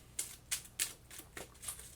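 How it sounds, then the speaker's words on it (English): A deck of town cards for the Townsfolk Tussle board game being shuffled by hand: about six crisp, papery flicks at an even pace, close and fairly quiet, with no voices. "all I have to do is shuffle up the town decks"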